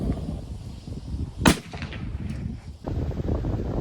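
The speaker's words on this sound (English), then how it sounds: "We'll take two shots with the Speer and the Mag Pro load." A Winchester Model 70 rifle in .264 Win Mag fires a single Speer load, one sharp, loud crack in the middle over a constant outdoor background rumble.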